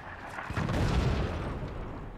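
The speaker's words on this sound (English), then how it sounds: "But those mortars will continue to hit unless he builds defense, which he is doing now, but here comes more mortars." Upgraded mortar shells hitting a fort in the strategy game Forts, a dull rumbling boom that swells and lingers for about two seconds, moderately loud with no talk.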